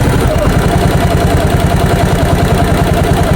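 A loud motorcycle engine, which stalls on bumps with a Code 12 error, idles steadily with a rapid, even chugging rhythm, close by and continuous throughout.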